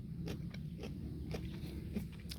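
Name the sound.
crunchy tindora (perennial cucumber) being bitten and chewed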